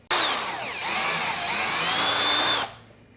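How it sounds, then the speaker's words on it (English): Power drill cutting into a Yamaha SuperJet jet ski hull while fitting Pro Watercraft wedge sponsons, one steady loud whine running near and alone for about two and a half seconds before stopping abruptly. "one more time with the drill"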